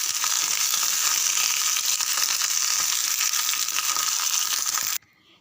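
Fish kuzhambu ingredients sautéing in a pan, a loud, steady crackling sizzle running evenly for about five seconds before cutting off abruptly into near silence.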